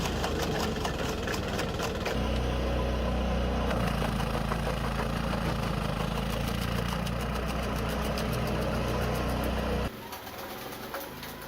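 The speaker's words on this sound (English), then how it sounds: "The Tennessee 130D Pro Diesel Branch Shredder boasts a 15 HP engine" A Tennessee 130D Pro diesel branch shredder with a 15 HP engine runs with a steady, loud mechanical drone. The sound drops abruptly to a lighter running tone near the end.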